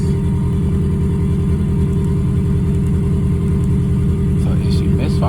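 A car engine with a misfire runs at a steady idle, loud and close, with a low rumbling, slightly uneven pulse throughout.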